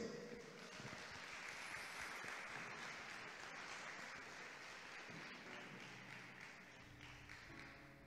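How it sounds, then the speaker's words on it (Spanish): At the Teen Universe Riviera Maya 2022 crowning, a large audience applauds in welcome for Linda Gallegos, steady dense clapping heard at a distance throughout, with no speech over it. "un fuerte aplauso a Linda Gallegos"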